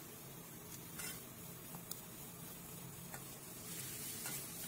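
Stuffing for stuffed bitter gourd fritters, with turmeric and salt, stirred as it fries in a pan: a steady sizzle under soft scraping stirs and a few light spoon clicks, close and continuous.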